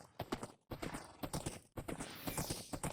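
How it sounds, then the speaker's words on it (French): Horse hooves clip-clopping in the Minecraft video game, a fast, busy patter of close, crisp hoofbeats that runs nearly continuously, with two short breaks, and no voices. "C'est vraiment trop génial le cheval."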